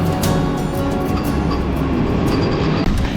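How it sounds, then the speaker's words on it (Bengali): Train pulling out of Balasore station platform in Odisha, bound for Puri: a steady, loud, continuous rumble of rolling wagons with broadband rail noise throughout, no voices. "ট্রেন ছেড়ে চলে গেল তার গন্তব্য পুরীতে।"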